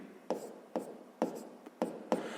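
Handwriting on paper while working a sixth-grade maths exercise, five distinct pen strokes at a steady rhythm, close and clear with no talk over them.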